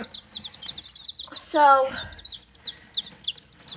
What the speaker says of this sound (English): So these chickens are super cute, and they're just little babies right now.